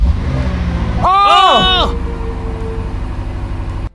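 A cheap competition BMW M5 with an engine starting problem catches and runs for a few seconds, its starter and rising engine note surging loudly before fading back to a low idle hum, with a voice exclaiming over it.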